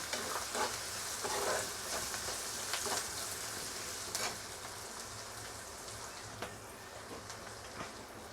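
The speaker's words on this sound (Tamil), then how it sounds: "பெருங்காயத்தூள் போட்டுட்டு நல்லா வதக்கிக்கோங்க" Steady frying sizzle of asafoetida in hot oil with occasional stirring scrapes, close and continuous, no voices.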